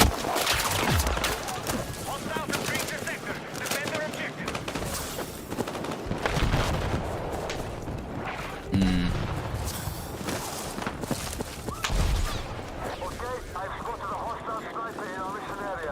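Gunfire crackles in bursts across a busy Battlefield 6 firefight, DMR rifle shots mixed with other weapons, steady background combat noise and occasional voices.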